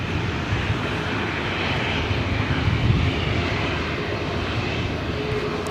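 Jet airliner engines roar at LAX airport, a loud, steady rumble with a broad hiss that swells slightly midway, heard from nearby with no talk.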